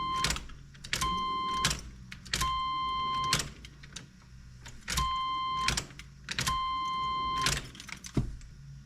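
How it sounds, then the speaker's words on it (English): Ignition key cycled repeatedly in a 90s GMC S-15 Jimmy: four rounds of a steady electronic warning chime, each bracketed by sharp mechanical clicks, with short quiet gaps between. "So 5 ignition cycles now."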